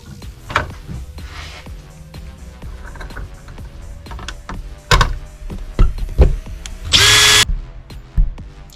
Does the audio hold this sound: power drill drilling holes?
yes